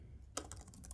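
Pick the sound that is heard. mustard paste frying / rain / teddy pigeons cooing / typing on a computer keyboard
typing on a computer keyboard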